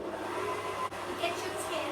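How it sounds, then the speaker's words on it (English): An electric hand mixer whizzes through bread pudding mixture, a steady continuous motor whir with a brief dip near the middle, close by and moderately loud. "Give it another quick whiz up with your mixer if you've got one."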